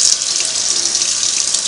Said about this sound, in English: And then I'm going to give it another rinse.